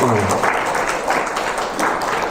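Audience applause at a Korean brain trainer conference in Busan: a steady, moderately loud wash of clapping from a hall crowd, continuing evenly without pause, with a brief low voice at the very start.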